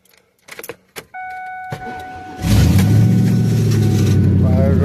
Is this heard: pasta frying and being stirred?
no